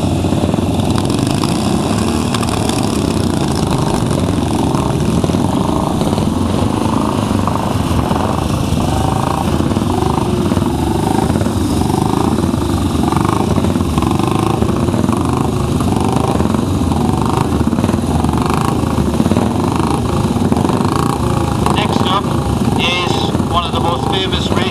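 An early AJS 7R 350cc racing motorcycle runs close by at a hillclimb event, its engine a loud continuous roar throughout, with voices partly audible beneath it.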